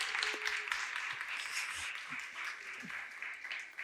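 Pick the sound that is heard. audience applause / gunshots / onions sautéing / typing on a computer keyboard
audience applause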